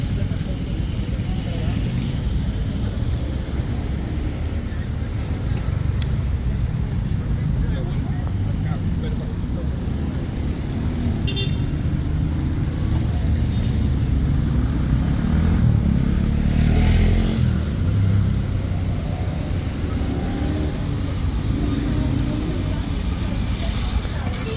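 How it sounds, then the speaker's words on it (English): Motorcycles and traffic fill a busy Bogota street on a Saturday afternoon, a steady, loud rumble of engines that runs without pause, with a few rising revs near the middle. "It's motorcycle paradise here."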